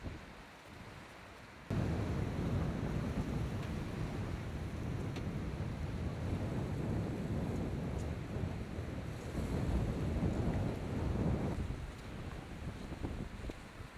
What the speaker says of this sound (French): Et là, il y a un vent terrible, donc le lac est tout plein de vagues.